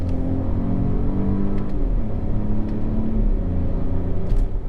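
A Citroen DS3 Crossback's engine revs up and settles, a close, steady low rumble with rising and falling pitch through the run.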